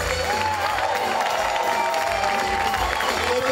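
Theatre audience applauding a musician at a musical theatre gala, a dense, sustained wash of clapping with some cheering, fairly loud and continuous, with a musical tone underneath.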